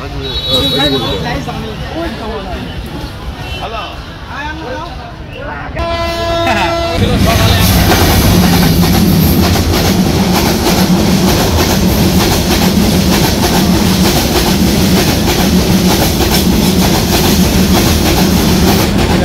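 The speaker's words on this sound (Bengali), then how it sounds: "মাঝখান ট্রেন যাচ্ছে।" A train rolls past a busy vegetable and cucumber market in Tilakpur, a sustained loud rumble and rattle of wagons with a horn toot as it arrives, while people talk near the start.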